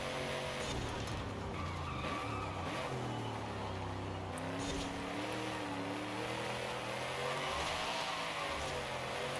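A D class race car in Forza Horizon 5 skids with its rear end stepping out, tires squealing steadily over a loud continuous engine roar for the whole stretch, with no talking.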